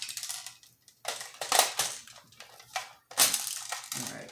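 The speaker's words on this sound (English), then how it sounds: "if you heard when I put the mag in" Magazine being pushed into a Lancer Tactical AK airsoft rifle, a run of close scraping and clacking handling noises in short bursts with pauses between, no distinct latch click, no talking.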